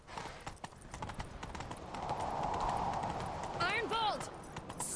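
Rapid hoofbeats of a galloping horse in the video game The Witcher 3 run steadily throughout, with a brief whinny near the end and voices talking over the action.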